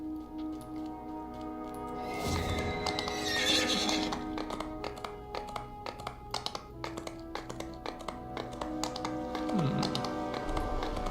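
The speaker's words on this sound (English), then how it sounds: "I think that this horse doesn't actually fit the character well" A horse in the video game DDO gives a drawn-out whinny early on, followed by a string of sharp hoof taps mixed with keyboard clicking over a soft game backdrop.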